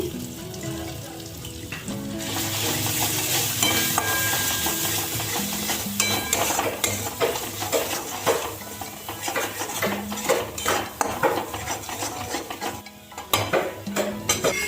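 Cumin, coriander, turmeric, dry red chilli and Kashmiri chilli powders with salt fry in a pan for a catla fish head and cabbage curry. A loud, close sizzle runs under brisk spatula scraping and clinks, with no voices.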